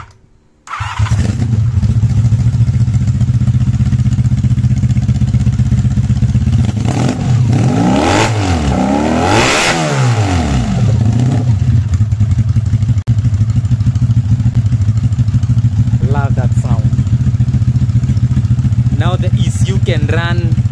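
A V4 motorcycle engine, converted from four carburettors to electronic fuel injection, cranks and fires, then settles into a loud, steady idle with sharp revs swooping up and down midway; a voice speaks briefly near the end.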